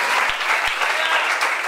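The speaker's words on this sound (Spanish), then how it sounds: "Aplauso para Ana." A nightclub party audience at a Friend's Day event breaks into brisk, dense applause, continuous clapping filling the whole moment with a few louder thumps underneath.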